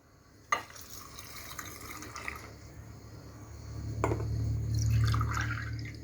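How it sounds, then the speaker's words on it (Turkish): Vinegar poured into pickle jars of cucumber pickle, a brief drip and clink near the start, then a low rising trickle of liquid filling a jar, close and fairly quiet, no talk. "turşularımız biraz da sirkeleri de birer çay bardağı sirke ilave ediyoruz"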